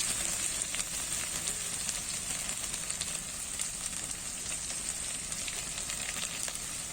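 Cinnamon, cardamom and bay leaf sizzle in hot oil for a chicken curry, a constant bright crackling hiss with soft stirring scrapes, moderately close and free of speech.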